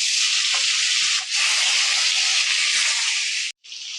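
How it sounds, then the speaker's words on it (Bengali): Pieces of rohu fish fry in hot oil with a loud, constant sizzling hiss that briefly dips once, then cuts out and comes back near the end. "মাছগুলো এখন ফ্রাই করতে দিয়ে দেবো।"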